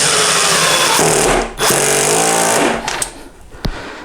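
A Parkside Performance PDSSAP 20 B2 impact driver drives 5mm by 50 Torx screws, loud and close, with a rapid hammering rattle running for nearly three seconds, a brief dip midway, and then tapering off with a few clicks.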